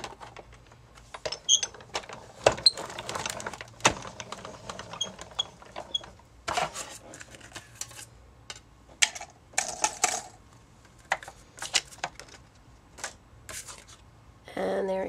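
A die cutting machine feeding pattern paper through a scalloped die: uneven mechanical clicks, rattles and grinding bursts, close and fairly loud, with short pauses between.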